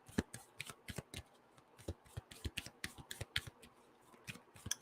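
Moonology oracle cards being shuffled by hand give a quiet, close run of rapid papery riffles and flicks in uneven bursts throughout.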